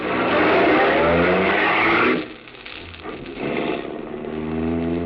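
A car engine roars loudly as the vehicle accelerates hard, then the noise drops off abruptly and continues at a lower, steadier level.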